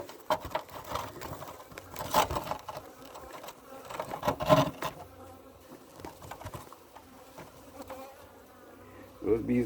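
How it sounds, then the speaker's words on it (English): Angry honeybees swarm close around a beekeeper, a dense, wavering buzz that swells and dips as insects dart past, with no talking. "Those bees, like they get a little angry there"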